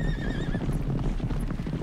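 A horse herd in a cartoon, with a whinny at the start followed by a rapid, dense drumming of hooves that holds loud and close to the end.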